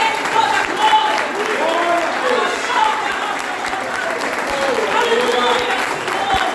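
A church congregation applauding during a worship service: steady, sustained clapping from a crowd fills the whole stretch, with voices calling out over it.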